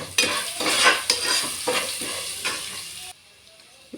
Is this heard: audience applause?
no